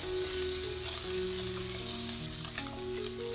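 Pork belly fat sizzles and crackles steadily in a hot pan with scallion oil, a dense frying hiss with occasional pops, close up and with no talking.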